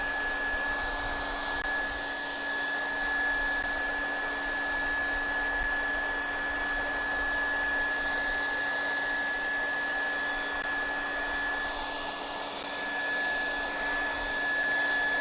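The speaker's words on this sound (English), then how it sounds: "I have my hair dryer on high." A hair dryer running on high to dry paint on an art piece, a steady close whir with a constant hum, continuous and unbroken throughout with no talk.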